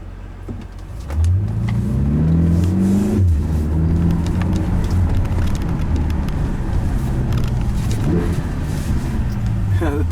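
A BMW X5M (F85, 575 HP) revs hard through city streets in Stockholm, engine pitch climbing in a strong pull, then dropping through downshifts with burbling rises later, while a voice talks over the cabin roar.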